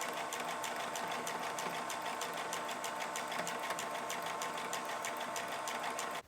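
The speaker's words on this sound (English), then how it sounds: "I'm gonna put my sewing machine on the zigzag stitch." A sewing machine runs a zigzag stitch on quilt fabric scraps, a fast, even mechanical chatter heard up close and continuously, stopping abruptly at the end.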